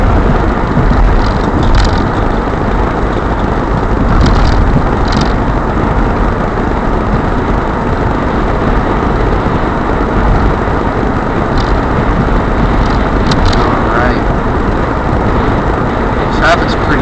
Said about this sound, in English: Traffic's never bad on this road, but sometimes it's slow moving.